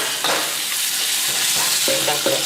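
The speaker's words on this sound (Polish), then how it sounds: "Cebula na początek smażymy, nie?" Steady sizzling of onion frying in oil, with a utensil stirring and scraping the pan a few times.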